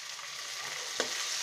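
Ginger garlic paste fries in hot oil with browned onions for a potol peyaji dish, a steady close sizzle with one sharp crackle burst partway through.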